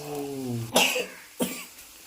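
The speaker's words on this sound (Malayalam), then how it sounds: "അധികം ചുമ വരുന്നുണ്ട്." A person coughs twice, two short harsh bursts close to the microphone, after a brief stretch of voiced sound.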